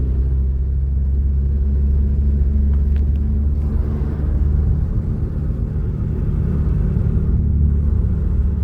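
A Toyota Great Corolla drives along a riverside road, a steady low engine and road rumble continuing evenly without jolts as the clutch is let out smoothly.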